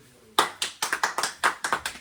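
Several people clap in welcome at a home gathering, a run of about nine sharp, close claps in an uneven rhythm that starts after a short quiet.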